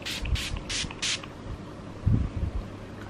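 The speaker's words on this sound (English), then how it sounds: "I'm gonna spray my face." Four quick hissing bursts of Urban Decay All Nighter setting spray onto a face, close by, followed by a few low thumps and rustles.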